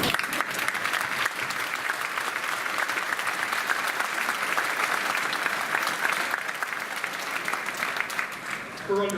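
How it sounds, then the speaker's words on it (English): A large graduation audience in a hall gives steady, sustained applause, a dense wash of clapping that fills the space from start to finish. "I think we all owe a round of applause to Mrs. Beverly Miller"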